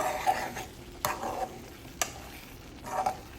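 Egg curry is stirred in a pan with a few distinct scraping strokes about a second apart over a faint, soft sizzle, heard close up and without speech.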